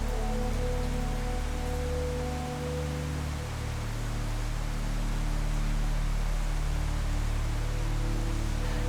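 Steady rain falling in the cloud-covered mountains near Dalat, Vietnam, a continuous dense hiss over a low, constant hum, with no voices.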